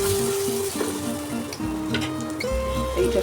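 Cauliflower and potatoes hit a hot oiled pan and sizzle steadily, with a continuous frying hiss and some clinking as the vegetables settle, close and fairly loud with no voice over it.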